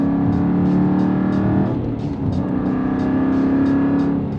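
A lowered Aston Martin drives along a road and thumps over a series of bumps, the steady engine and road drone loud and close, with a short dip in the noise midway and no one talking.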